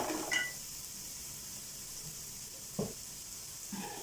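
Masala fries in a pan for egg rice, making a soft, steady sizzle with a few brief scrapes of stirring close by.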